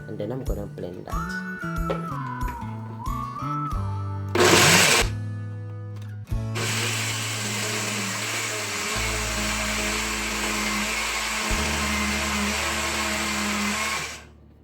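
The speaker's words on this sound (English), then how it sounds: "I'm gonna blend mine until it is smooth" A kitchen blender whirs loudly and steadily, grinding plantain, peanuts, flour and water into a smooth porridge, starting after a brief sharp burst and running on with an even high drone, preceded by some background music.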